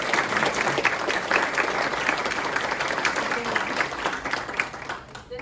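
Sustained applause from a large crowd at a general meeting, loud and even, fading slightly at the end.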